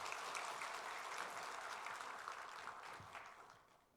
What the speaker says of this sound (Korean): 우리 격려하면서 한 박수 한번 하도록